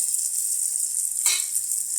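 A steady high sizzle hisses from a pan while liver is sautéed, with a brief louder burst of frying crackle midway as the food is stirred.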